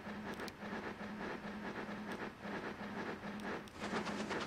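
A train rolls along in the rail-building game Transport Fever 2, a steady rumbling clatter with a low hum and occasional brighter clicks, moderately loud and continuous with no talk.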